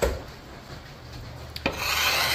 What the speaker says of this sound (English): we'll just keep on scraping this thing. Get all that old varnish off of there.